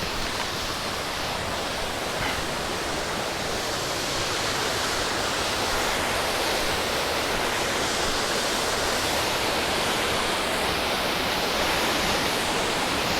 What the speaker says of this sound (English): And into the bottom waterfalls.